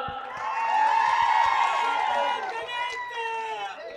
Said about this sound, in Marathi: संजय राऊतसाठी एकदा टाळ्या वाजवा